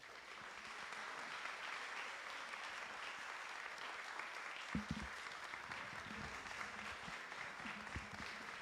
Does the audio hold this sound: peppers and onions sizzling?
no